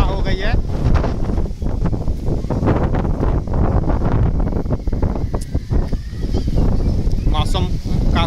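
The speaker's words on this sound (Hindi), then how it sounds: "यहाँ पर काफी तेज हवा हो गई है।" Strong wind before the first rain gusts hard against the microphone, a loud, rough rushing roar with rustling, while someone talks over it.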